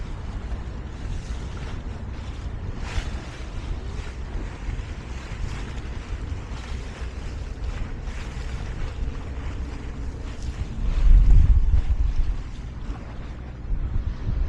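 A sailboat off the Scottish coast motoring on its engine, a low steady drone under constant wind and water noise, with a brief louder swell near the end.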